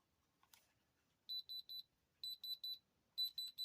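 A jewelry tester beeps in three quick groups of three sharp, high electronic tones, fairly faint against a quiet background after a brief handling noise.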